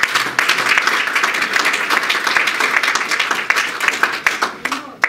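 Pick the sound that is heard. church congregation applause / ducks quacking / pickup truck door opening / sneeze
church congregation applause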